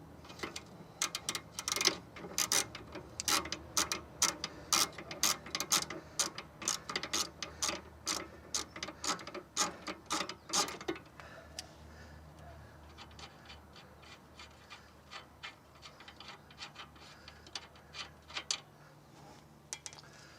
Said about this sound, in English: I'm going to just get a socket on there and just take it off with a socket